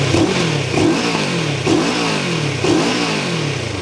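Moto Morini Seiemmezzo 650 Scrambler engine revving hard in several rising and falling bursts, a close, loud and raspy mid-pitched roar.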